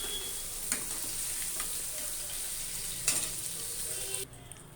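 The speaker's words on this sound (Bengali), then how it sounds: "দেখো বন্ধুরা, মাছগুলো ভাজা হয়ে গেছে" Prawns frying in oil in a pan for a bottle gourd and prawn curry, giving a steady close sizzle and crackle throughout, with a few sharper pops and stirring clicks before the frying noise drops away near the end.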